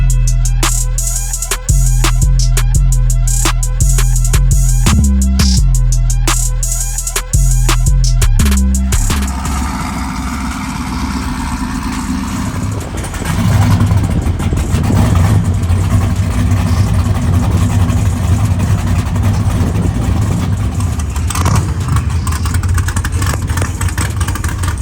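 A race car engine idles and blips loud and close on a city street, a rapid choppy lumpy idle for the first several seconds before settling into a steadier, rougher drone with occasional revs.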